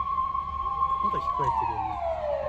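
A wailing emergency siren from police cars and fire engines responding to a mountain wildfire near a golf course, one tone sweeping steadily over wind noise as another siren rises briefly alongside it.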